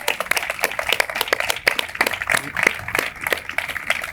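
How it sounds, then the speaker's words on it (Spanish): An audience applauds at a Hispanidad gathering in Cartagena, steady dense clapping throughout, fairly loud and close, with a voice faintly mixed in. "Fernando Díaz Villanueva también se merecen un aplauso"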